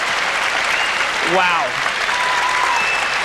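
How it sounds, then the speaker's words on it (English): Audience applause fills an arena at the 1998 Nagano Winter Olympics during a pairs figure skating short program, steady and broad throughout, with a commentator's brief exclamation over it. "You saw the applause"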